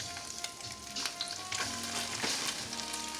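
Pork chops sizzle and crackle steadily as they fry in a hot pan, with occasional louder pops and spatters; no one speaks.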